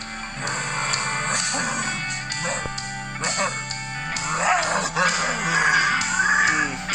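Animated dog growls from the adventure game Randal's Monday, several short whimpering, yipping growls mixed with other game sounds and voices talking throughout.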